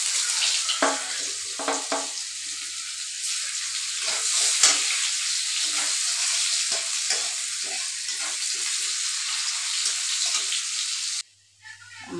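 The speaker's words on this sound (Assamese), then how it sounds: "আমাৰ পিঁয়াজ আৰু মছলাখিনি ফ্ৰাই হৈ গ'ল" Onion and spices, including panch phoron, fry and sizzle in hot oil, with stirring scrapes and crackles in a steady close hiss that drops out abruptly near the end, with no voices.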